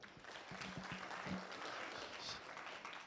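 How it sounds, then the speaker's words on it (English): An audience at a Nairobi tech week event claps in a steady, faint wash of applause lasting a few seconds, with a brief tonal hum mixed in and no clear speech. "Let's clap for Nyawera."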